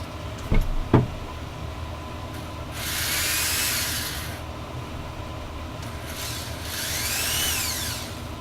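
A power drill bores anchor holes for a wall bracket, two sustained whirring bursts a few seconds each, preceded by a couple of sharp knocks, with no talking.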